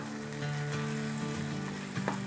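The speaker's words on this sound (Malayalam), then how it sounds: "ഒരു ടീസ്പൂൺ ഗാർലിക്കും പേസ്റ്റാക്കി വെച്ചിരുന്നതിന് ഒന്ന് എണ്ണയിലിട്ട് നമുക്ക് വഴറ്റാം" Ginger and garlic paste sautés in hot oil, a soft, steady sizzle that stays faint and even throughout. A low tonal hum runs underneath it.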